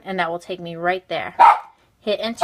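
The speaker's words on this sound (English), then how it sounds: "Sorry, that was my dog." A pet dog barks a couple of times in a home, sharp bursts that break in between stretches of someone talking close by.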